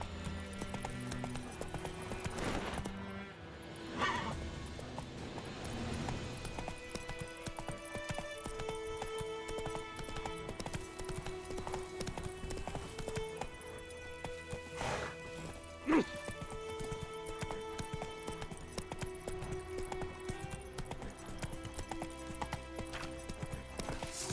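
Horse galloping in The Witcher 3, steady clip-clop hoofbeats running under a melodic music score, with a brief neigh and a sharp thump partway through.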